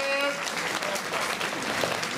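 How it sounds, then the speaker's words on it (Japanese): An audience at a Turtle Talk show at Tokyo DisneySea claps in a steady, full round of applause, close and continuous throughout the short stretch. "みんな彼に拍手しようぜ"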